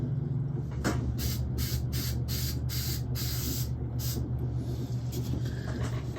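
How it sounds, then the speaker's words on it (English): A spray glue can hisses in repeated short bursts over a steady low rumble, the blasts close and loud, a few pulses fading out near the end. "hold the can upside down and spray until no more glue is coming out"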